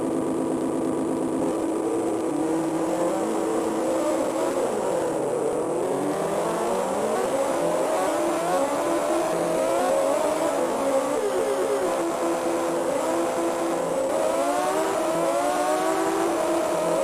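Racing motorbike engines in the Amiga game RVF Honda, a continuous synthesized engine drone with pitch sweeps up and down as the bikes rev and accelerate, loud and unbroken throughout.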